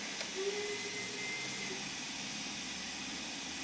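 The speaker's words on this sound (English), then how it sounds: "There's all that steam that we've been building up, getting released" Steam released from an LMS Jubilee steam locomotive in Train Sim World 2, a continuous broad hiss holding steady at a moderate level, with a faint tonal whistle early on.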